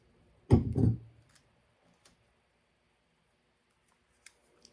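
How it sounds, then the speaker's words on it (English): Scissors trim the edge of sublimation tape from a tape dispenser, two quick close cuts in succession, then near silence with a few faint ticks. "Let me just trim the edge off."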